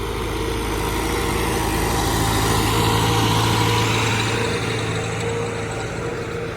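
A small tractor engine runs steadily on a fuelled-up morning outing, a continuous close, loud droning hum with no breaks and no voices.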